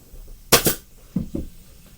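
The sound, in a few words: staple gun stapling boat upholstery fabric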